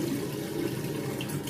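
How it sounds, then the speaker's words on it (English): Water runs steadily from a tap in a bathroom sink while being splashed onto the face, a continuous close hiss and splash with no speech. "So I just put water on my face"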